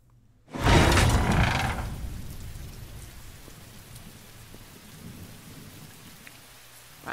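Rain and thunder in the video game The Walking Dead: Michonne, a sudden loud thunderclap that rumbles and fades, over steady rain pattering on surfaces.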